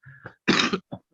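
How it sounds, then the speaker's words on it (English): A single harsh cough with a throat-clearing rasp comes from a man suffering a worsening cough, close and brief, followed by a short wheezy catch of breath. "the cough's got really bad today"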